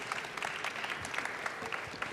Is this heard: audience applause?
yes